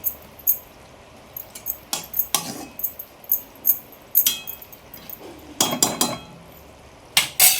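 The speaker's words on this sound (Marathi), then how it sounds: "आता डबल झाकण ठेवून घेतले मी" Metal lids clinking and clattering onto a cooking pot of eggplant curry, a series of sharp close clinks and scrapes spread irregularly over several seconds in a quiet home kitchen.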